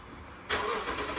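Starter cranking and catch of a Toyota V8 engine in an LC200 Land Cruiser, Tundra, Sequoia or LX570, freshly fitted with new spark plugs, rising into a loud steady idle after a quiet lead-in.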